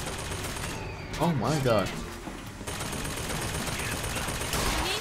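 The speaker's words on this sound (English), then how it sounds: "I love this hand cannon. Revolvers are always the most fun." Hand cannon revolver gunfire in the video game Bioshock Infinite: a few sharp shots ring out amid game noise, while a man exclaims briefly in between.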